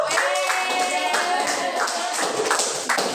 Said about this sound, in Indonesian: Oke, tepuk tangan untuk Anda.